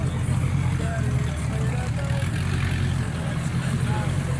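Cars rolling into a car show at Bear Mountain produce a steady low engine rumble and idle close by, with people talking over it throughout.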